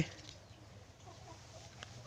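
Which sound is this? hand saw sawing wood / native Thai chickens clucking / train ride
native Thai chickens clucking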